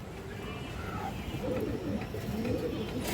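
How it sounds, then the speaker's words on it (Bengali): A khoira-gola pigeon coos softly in low, rolling calls, faint and close against a quiet background. "খরা গলা কবুতর দর্শক"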